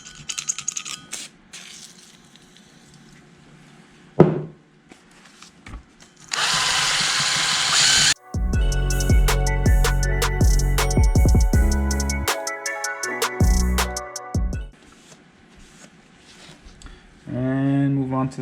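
Power tool scratching carbon off soft aluminum LS cylinder heads, heard as bursts of whirring and rattling grinding between pauses, with a brief voice near the end.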